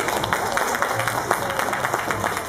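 Audience applause at a freestyle basketball performance and talk show, a steady wash of clapping from a crowd with voices mixed underneath.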